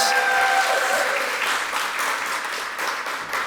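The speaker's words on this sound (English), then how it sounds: "give them another round of applause" Audience applause at a women and LGBTQI+ leadership event, a dense, steady wash of clapping from a crowd that carries loud throughout and eases only slightly toward the end.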